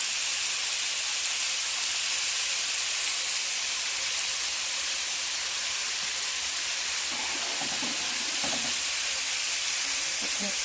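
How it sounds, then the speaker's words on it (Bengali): Potatoes and beans fry in a pan while pasta boils nearby, giving a steady, loud broadband sizzle throughout with a few soft knocks near the end. "এবার একটু নেড়ে দিয়ে দেবো যতক্ষণ আলু আর বিনসটা ভাজা হোক।"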